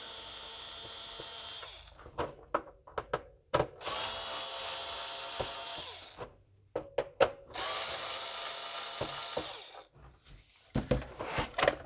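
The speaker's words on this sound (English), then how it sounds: "So we'll start by opening up these screws." A screwdriver backs screws out of a vintage Commodore 64 computer case, with three long whirring bursts of a powered driver separated by sharp clicks, taps and rattles of screws and plastic close by.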